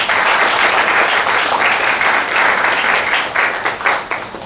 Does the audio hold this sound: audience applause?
yes